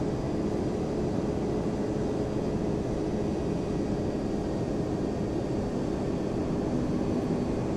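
Boeing 767-300 jet engines in Flight Simulator X give a steady, dense roar with a faint whine, unchanging and filling the whole stretch without any talk.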